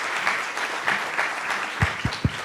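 Audience applause welcoming a speaker at a Khipu 2019 AI conference sponsor talk: a soft, steady patter of clapping from a crowd, ending with a few louder, closer individual claps.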